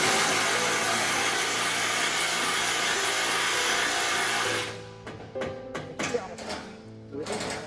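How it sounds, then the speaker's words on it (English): A power tool drives roof screws while a folding container home is assembled, first as a loud continuous whirring, then after a pause as several short sharp bursts mixed with clanks. "Now they try to finish the top screws."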